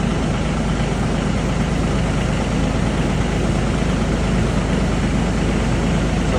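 A Polaris Pro XD side-by-side engine idles steadily while purging coolant from the cooling system, a constant loud low drone with broadband mechanical noise and no variation.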